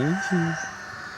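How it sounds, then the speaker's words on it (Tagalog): A chicken at a campsite gives a few short, close vocalizations near the start, then the sound fades into quieter background noise. "May manok pa."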